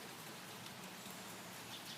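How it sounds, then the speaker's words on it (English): Rain falls steadily outdoors as a dense, even hiss of drops, quiet and continuous with no voices over it. "it's raining."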